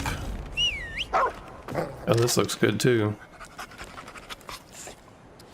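A dog companion in the Remnant 2 video game pants heavily and gives short yelps and whines up close, while someone talks briefly at the start.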